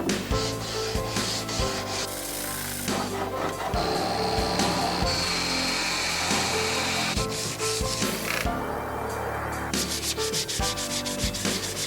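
A sanding block scrubs surface rust off a car body panel in steady back-and-forth strokes, a close, continuous abrasive rasping with regular rhythmic pulses.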